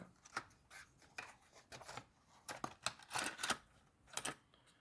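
Eliminacid heartburn tablet packaging being opened, with a run of sharp crinkling, tearing and clicking bursts close to the listener, irregular and busy over several seconds with no talk.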